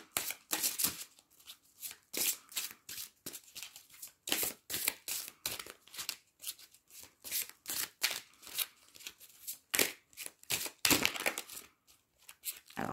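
Tarot cards are riffled and shuffled in quick, crisp bursts of flapping and snapping, close and fairly quiet, repeating in an irregular rhythm with short pauses between handfuls.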